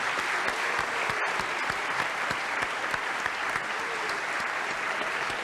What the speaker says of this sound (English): can we have one last round of applause for all the contributors tonight